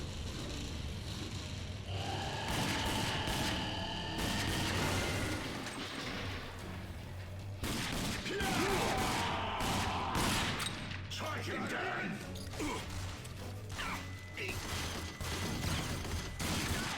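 Continuous gunfire from weapons in the first-person shooter Rage, with dense, rapid shots and bursts running steadily throughout, layered with mechanical clatter and occasional booms.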